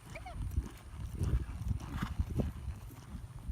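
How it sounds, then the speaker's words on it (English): A horse's loping hoofbeats, a big rolling gait, thud along in a steady rhythm under steady background noise. "Look at that lope."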